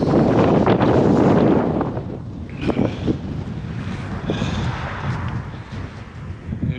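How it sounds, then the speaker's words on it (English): Outdoor wind buffets a microphone in loud rumbling gusts at a snowy portable ham radio setup, heaviest at first and then easing into steadier blustering. "I'll do a voiceover if the wind is terrible."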